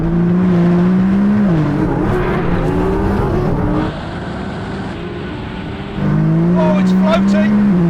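Three heavily tuned supercars, a 1600hp Nissan GT-R, an Audi R8 and a McLaren 720S, launch in a drag race with loud, sustained roaring engines that rise and shift through gears, dropping back briefly before surging again near the end.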